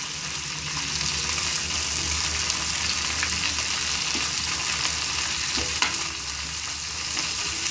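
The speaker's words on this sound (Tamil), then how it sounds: "இப்போ வந்து இந்த ஸ்டேஜில் தக்காளியை அதோட சேர்த்து போட்டு வதக்கிக்கிறோம்" Tomatoes and pirandai sautéing in sesame oil, giving a continuous dense sizzle close by. Faint stirring clicks and a single sharp tap sound under it, with no talk.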